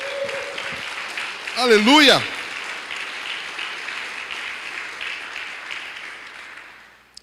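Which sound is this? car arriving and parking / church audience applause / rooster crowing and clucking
church audience applause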